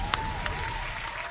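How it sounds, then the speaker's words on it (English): Brief applause from a small group in a radio studio, dense steady clapping with a couple of sharper claps near the start, a faint tone running underneath. "Hey, a round of applause, for the leadership"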